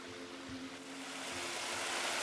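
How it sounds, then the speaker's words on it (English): Water cascading off the Black Hill and the Cat's Back into the Olchon valley in the misty Black Mountains, a steady, broad rushing that swells slightly, with no voices. "More cascading water coming off the Black Hill or the Cat's Back, flowing into the Olchon."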